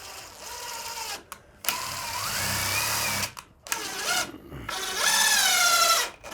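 A power drill drives screws into a wooden garden shed in three bursts, its motor whining and rising as each screw bites, close by, with short pauses between bursts.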